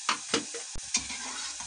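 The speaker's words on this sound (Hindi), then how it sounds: "ज़्यादा नहीं भूनूंगी प्याज को और साथ ही मैं ये अदरक डाल दूंगी, इसे भी हल्का सा भून लूंगी" Onion and ginger fry lightly in a pan for a Hindi kala chana soup recipe. A soft sizzle runs through, and a few sharp stirring scrapes and clicks come close together near the start.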